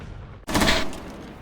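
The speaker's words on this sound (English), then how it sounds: "now we are just shooting the weapon to show you the recoil pattern" A short loud burst of MPX submachine gun fire in Rainbow Six Siege, fitted with a red dot sight and compensator, a dense rapid volley erupting suddenly and trailing off, close and alone without talk.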